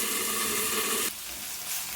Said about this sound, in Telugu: పచ్చిమిరపకాయలు కొద్దిగా వేగిన తర్వాత కొత్తిమీర, పుదీనా వేసుకోవాలి